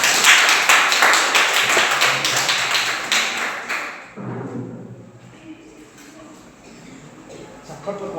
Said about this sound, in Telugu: నచ్చిందండి, చప్పలు కొడదామా?